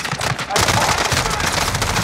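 Rapid bursts of automatic gunfire in a Warzone match on Fortune's Keep, loud and dense, rattling continuously over a short stretch with a voice briefly audible.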